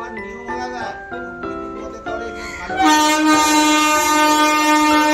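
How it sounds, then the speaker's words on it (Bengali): An Indian Railways freight train sounds its loud, sustained horn, the blast swelling as the train rumbles past nearby. "ইন্ডিয়ান রেলওয়েতে একটা সুন্দর গাড়ি বেরিয়ে যাচ্ছে"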